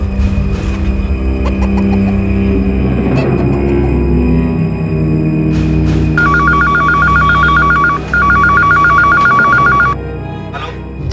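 A telephone rings with a steady pulsed electronic trill in a tense Hindi crime-drama scene, sounding twice in quick bursts over a dense, loud background bed of music and ambience.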